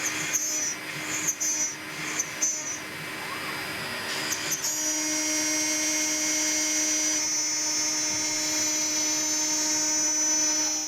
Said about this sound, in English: I'm using a single flute up spiral bit to cut these out.